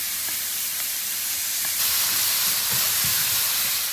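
Shrimp and scallops cook on a flat top griddle, giving off a steady broad sizzle and hiss with faint soft pops and knocks, without any talk.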